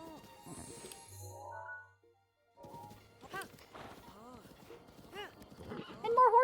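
Horses in the game Breath of the Wild give a few whinnies and snorts amid soft hoof clops, fairly quiet and close, with a brief lull before more neighing near the end.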